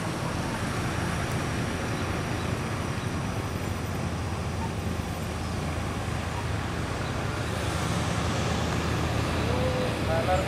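A heavy trailer truck loaded with asbestos maneuvers through a road bend, a continuous low engine and road rumble that stays steady and fairly close for the whole stretch, with background traffic noise.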